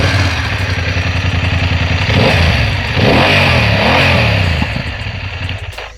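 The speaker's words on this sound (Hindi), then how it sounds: "BMW F900 GS exhaust note soon low." BMW F 900 GS 900 cc twin-cylinder motorcycle revving loud and close, a steady throbbing exhaust rising in a few throttle blips before dropping back toward idle near the end.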